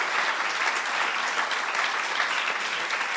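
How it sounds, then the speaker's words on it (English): Audience at a Digital Ocean Forum 2024 afternoon session applauding the speakers, steady dense clapping throughout, loud and close, with no one talking. "So can you please give warm applause to our speakers?"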